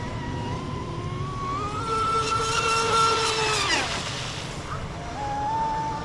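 Seaducer 34-inch speedboat on its maiden run, planing at high speed on calm water, its engine a loud steady drone that shifts in pitch as it runs.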